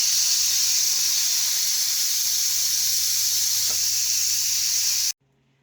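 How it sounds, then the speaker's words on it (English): Steam vents from an Instant Pot pressure cooker in a steady, loud, broad hiss that holds for about five seconds with no talking, then cuts off abruptly into near silence. "Well, the Instapot is done."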